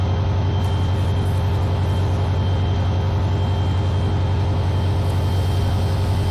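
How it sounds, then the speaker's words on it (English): A train from the Immersive Railroading mod for Minecraft gives a loud, continuous low engine rumble with steady rhythmic pulsing that holds for several seconds, with no speech. "There's that train."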